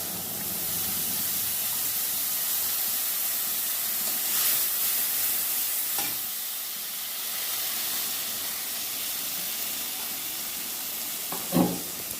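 Water poured into a hot pan of ginger paste, cumin paste and chili powder for a potato and pointed gourd curry, giving a steady hiss and sizzle that runs throughout, with a sharper burst near the end.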